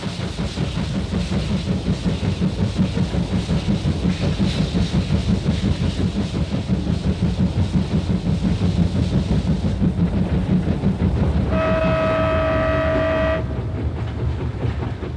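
A train runs along a new railway through the Tian Shan mountains, its steady loud rumble and rhythmic wheel clatter continuing throughout, with a sustained horn sounding near the end.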